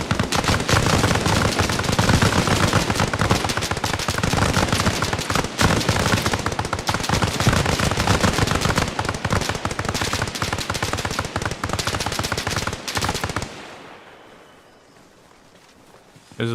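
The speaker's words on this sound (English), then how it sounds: "Someone's shooting at me." Battlefield video game firefight with sustained machine-gun bursts and rapid gunshots, dense and loud for about thirteen seconds before cutting to near silence.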